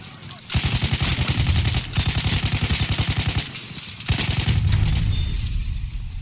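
A Hellriegel 1915 submachine gun fires long, fast automatic bursts in Battlefield 1 multiplayer, loud and close, with brief gaps between strings of rapid shots and a voice speaking over them.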